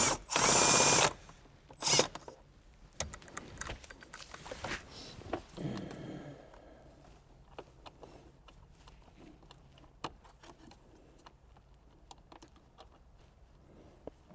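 A 10mm bolt comes out of the dashboard of a 2018-2023 Lexus LC500: a loud, close whirring burst from a power driver near the start, a second short burst, then quiet clicks and faint handling sounds.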